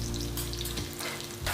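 Half-cooked potatoes and capsicum with red chili powder and coriander powder being mixed as they fry in a pan, a loud continuous sizzle broken by a few quick scraping stirs, close up and without speech.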